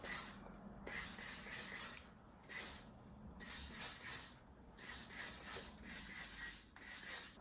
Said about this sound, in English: I'm gonna go in with some hairspray, and this is gonna help give a bit of memory to the hair